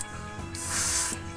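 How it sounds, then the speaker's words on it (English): An airbrush sprays Alclad gloss black base paint at a slightly higher pressure than recommended, giving one steady, close hiss of about half a second that swells in and cuts off, with no talking. "I spray it at a little higher pressure than what's recommended on the bottle"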